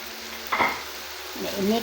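Hot dog pieces and vegetables stirred in a hot frying pan: a steady sizzle, a scrape of the spatula partway through, then more scraping and shifting near the end, close and moderately loud.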